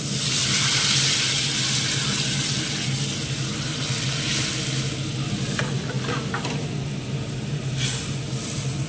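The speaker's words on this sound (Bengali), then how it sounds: "এবারে আমি জল দিয়ে দেবো" Water poured into hot frying masala for a fish curry, a loud continuous hissing sizzle that starts strong and slowly settles, with a few stirring scrapes later on.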